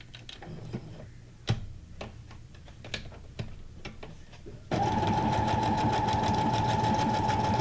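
Sewing machine stitching paper junk journal tags, with scattered clicks and taps at first, then a steady, loud, continuous whirring hum of stitching for the last few seconds.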